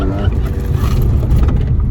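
A car in sport mode with traction control engaged launches hard from a standstill, its engine roaring loud and close with a steady, heavy low rumble throughout.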